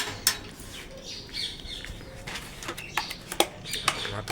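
Outdoor pigeons calling and chirping in short bursts, with a few sharp squawks and faint wing flutters over a soft background hum.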